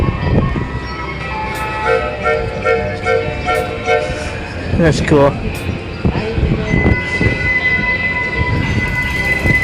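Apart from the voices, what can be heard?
small tourist train riding by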